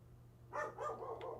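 A dog barks a few times in quick succession, faint and somewhat distant, with no talk over it.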